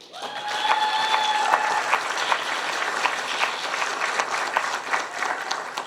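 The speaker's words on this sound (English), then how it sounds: "Samantha has an even bigger cheering crowd" A crowd at a police department civilian leadership graduation bursts into sustained applause and cheering for a graduate, dense clapping with a few whistles and shouts, loud and continuous from start to finish.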